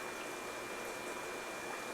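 Water pours steadily into a fish tank during a water change, a constant hissing, gushing flow at close range that holds even and unbroken throughout.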